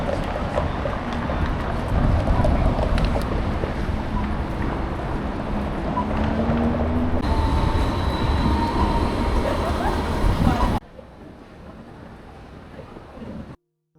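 Light rail tram on George Street in Sydney's city centre rumbling past, a loud steady rolling drone with faint wheel squeal, the noise cutting off sharply near the end.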